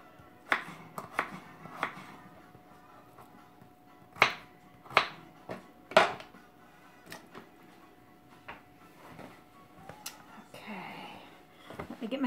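Potatoes chopped on a cutting board for vegetable soup: sharp, scattered knife knocks in irregular bursts, close by, with quiet stretches between and a person talking intermittently.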